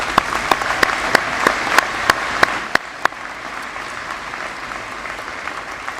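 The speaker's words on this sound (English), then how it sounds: "So please give Geneva a round of applause." Audience applause at a fire recruit class graduation, a steady crowd clapping with a few sharp, distinct nearby claps in regular rhythm early on, then tapering to a softer murmur of applause.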